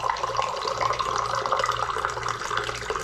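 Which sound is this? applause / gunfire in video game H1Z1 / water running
water running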